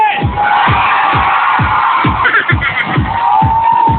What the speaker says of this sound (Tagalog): Isang mas malakas na tili!